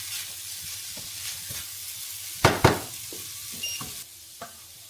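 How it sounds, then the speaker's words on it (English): Dehydrated jambalaya sizzles softly in a camp pan while being fried off, with a steady low crackle, a few scraping stirs and two louder sharp clatters midway. "give that a fry off"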